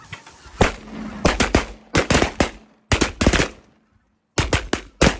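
Loud, close shotgun blasts from a goose hunt come in rapid clusters, several volleys of overlapping booms with short pauses between bursts, then a final few shots.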